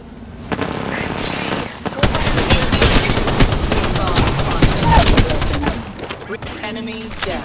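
Dense automatic gunfire in the video game Apex Legends, fast rattling bursts sustained for several seconds and then fading, loud and close, with a brief voice line near the end.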